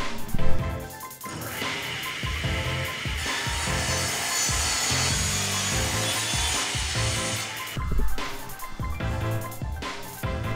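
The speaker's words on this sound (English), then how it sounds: "Yes, I got a new table saw." A new table saw ripping a jarrah table apron: a sustained, loud blade whine through the wood lasting several seconds, with scraping and handling knocks before and after the cut.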